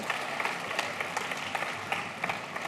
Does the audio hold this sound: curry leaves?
no